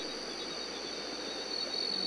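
Steady, high insect chirring fills the night air, a continuous buzzing drone with no voices, fairly faint but unbroken throughout.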